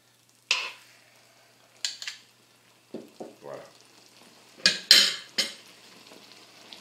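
Mushroom risotto being stirred in a pan, a handful of separate scrapes and clinks of a utensil against the pan, close and spaced out over quiet pauses.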